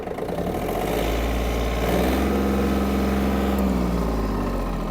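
A Yanmar F-200 mini tractor engine runs steadily at a constant, loud idle-like drone, close up, with no one speaking.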